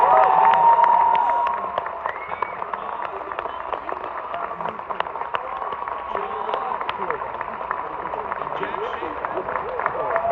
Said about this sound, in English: Let's give it another round of applause to the cast